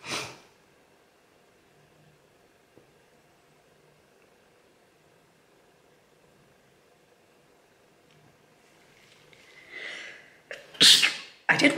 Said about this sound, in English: I will sneeze like a lunatic now, watch.